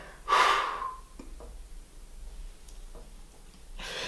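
A single forceful exhale during a core exercise, a loud close breathy rush at the start, followed by quieter breaths and faint room noise.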